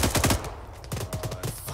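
Gunfire in the military shooter Arma 3: rapid bursts of automatic shots at mid distance, a quick rattling cluster at first, then another short volley after a brief lull, over a steady background.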